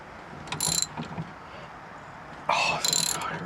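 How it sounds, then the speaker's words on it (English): Mechanical clicking and ratcheting as a steering wheel puller is tightened to draw the steering wheel off a Buick during turn-signal repair, two short bursts of metallic clicks separated by a quieter pause, close up. "We're going to get the steering wheel puller on and pull this wheel again"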